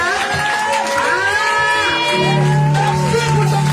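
A church congregation at an evening service cheers and acclaims together, a loud, continuous wash of many voices with whoops and sustained shouted tones rising over the crowd.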